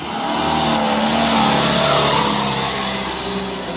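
A Colt Diesel Super HDX truck engine revving hard under full throttle on a tough uphill stretch, a loud, close diesel roar that swells, holds and then eases off over a few seconds; no talking.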